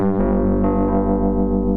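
Behringer BM-12 ring modulator producing a thick, rich sustained synth tone with dense metallic harmonics, loud and continuous, shifting slightly in timbre partway through, with no voices.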